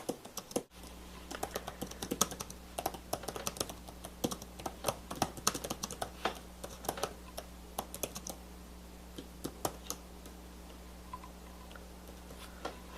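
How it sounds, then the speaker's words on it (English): Rapid typing on an Acer Aspire P3 keyboard, a dense stream of light clicking keystrokes at a quick pace, fairly faint over a low steady hum. "I was typing along pretty quickly"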